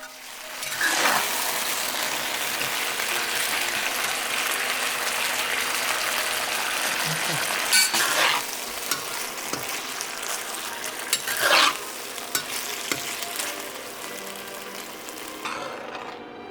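Beef pieces frying in a thickened sauce for Cambodian lok lak, a steady close sizzle with occasional stirring scrapes and clinks from the pan, no talking.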